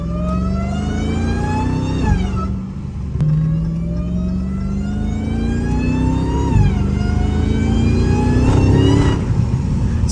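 An 850 wheel-horsepower Chrysler 300 Hellcat pulls hard on the road, its engine note rising steadily through each gear with quick dips at the shifts, loud and close from inside the car.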